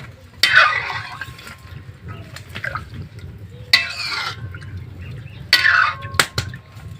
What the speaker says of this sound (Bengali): এবার একটু আমি নাড়িয়ে নেব।